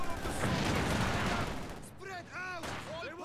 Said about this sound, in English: Incendiary grenade goes onto the Maxim.